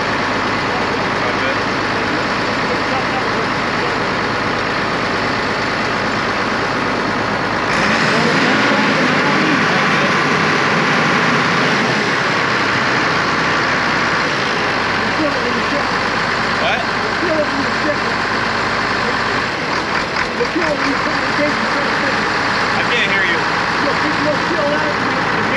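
A vehicle engine idles with a low, steady rumble, then is throttled up and held at a louder, rougher pitch for a stretch before easing back, running close and continuous throughout.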